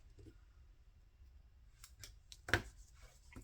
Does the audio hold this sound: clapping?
no